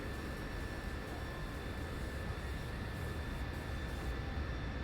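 An F-16C jet in a flight simulator game rolls for takeoff under a right-to-left crosswind, giving a constant broadband engine roar with a faint high whine above it, steady and unbroken throughout.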